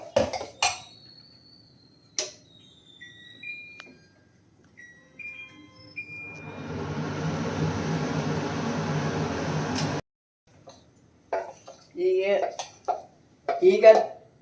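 A stone dosa griddle set onto a home kitchen stove, a few sharp clattering knocks and scrapes near the start, then a steady burner roar hisses for several seconds before cutting off, with speech following.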